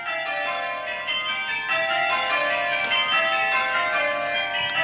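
Eight tower bells ring plain hunt, simulated on the Abel ringing program, a steady, continuous stream of bright overlapping metallic strikes, loud and even throughout with no talking.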